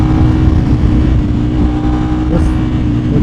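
A loud, sustained engine roar from a 2025 Ducati Panigale V4 superbike under hard acceleration on a highway, heard up close and dense throughout, with a brief faint whine near the end.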